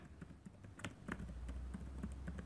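Keys clatter in a quick, uneven run on a computer keyboard, a person typing text into a Word document in a quiet room, soft and close with no talking.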